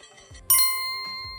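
A bright bell-like notification ding struck once, its clear tone ringing on and slowly fading, alone with no talk.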